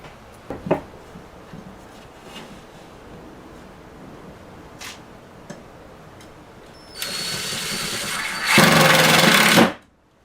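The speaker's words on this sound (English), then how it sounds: "Drill holes where they're going to go" A power drill whirs in two bursts while drilling holes for shelf brackets, the second louder and closer, after a stretch of quiet handling sounds and a few light knocks.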